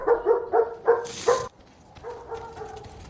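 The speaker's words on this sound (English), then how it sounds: "Dog sees ghosts now?" A dog in a video game gives a series of five short, sharp barks in quick succession, close and prominent, followed by a quieter whine or whimper.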